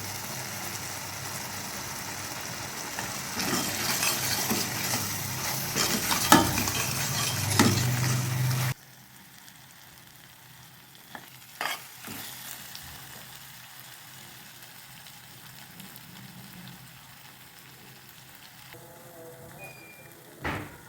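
Masala sizzling in oil while being stirred for a dhaba-style white chana dal, loud frying for several seconds that then drops to faint crackle with occasional clinks.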